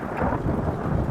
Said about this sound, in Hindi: कि तेज बारिश शुरू हो जाती है